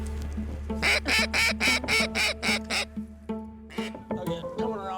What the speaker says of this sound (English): Ducks in the air, high right.